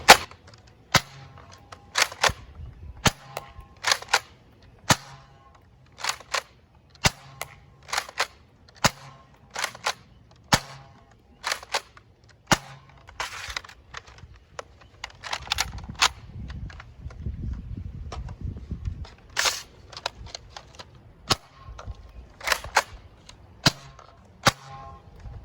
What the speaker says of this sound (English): let's get into the firing demo again with some blue headshot ammo rounds.